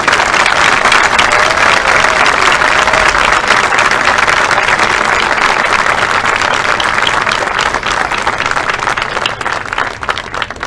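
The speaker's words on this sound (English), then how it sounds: "Give these ladies a round of applause." Loud, dense applause from a crowd at a high school football awards banquet, sustained and continuous throughout, gradually easing slightly toward the end.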